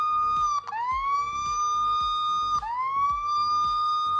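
SOS siren from a boAt Storm Infinity smartwatch, a loud electronic tone that swoops up and holds, repeating twice in quick cycles with a steady ticking pulse underneath.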